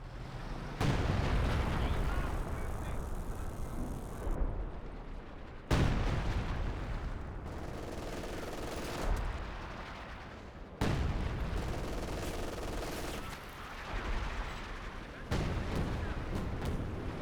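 Artillery barrages and explosions in the Company of Heroes 2 strategy game, heavy booming blasts and rumbling fire coming in repeated dense bursts, loud and continuous across the whole stretch.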